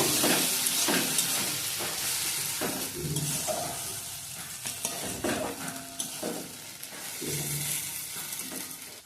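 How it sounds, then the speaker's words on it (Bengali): Ginger paste frying in a pan, with steady sizzling and repeated stirring scrapes at an irregular rhythm, close by and fairly loud, no voices. "আদা দিয়ে একটু ভাজা ভাজা করব।"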